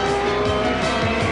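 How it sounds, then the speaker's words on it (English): A Corvette GTP race car spins out of a right-hand turn, its tires squealing loudly in repeated sweeping swoops over the roar of the engine, close and without any voices. "It sent him spinning wildly out of that right-hand turn."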